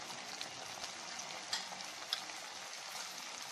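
Onions and tomatoes with turmeric sauté in oil for brinjal kulambu, an eggplant curry. A soft, steady sizzle runs throughout, broken by a few faint clicks of stirring.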